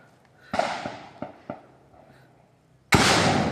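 Gunfire in a firefight between soldiers and NPA rebels in Aurora: several sharp broadband bangs and pops at irregular intervals, ending in a loud sustained burst, outdoors at moderate distance.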